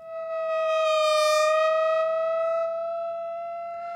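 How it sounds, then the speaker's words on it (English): A steady, pure electronic siren tone with bright harmonics swells in, holds a few seconds, and slowly fades, alone without any voices. "I have the siren sound."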